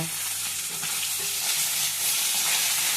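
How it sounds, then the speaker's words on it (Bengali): Fish fries in hot oil in a home kitchen with a loud, continuous sizzle and crackle, steady throughout and close up, with no one speaking. "এখানে মাছ ভাজা হচ্ছে"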